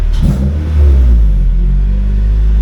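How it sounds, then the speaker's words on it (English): Car engine fitted with an RBC throttle body adapter revving once loudly and close, then settling back to a steady idle rumble. "Has pretty good throttle response. And it idles back down."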